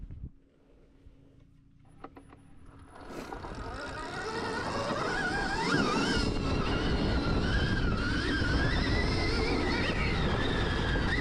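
A Stark Varg electric motocross bike pulling away and riding, its whine rising from quiet to a loud, sustained electric motor drone with wavering pitch as it accelerates and carries on.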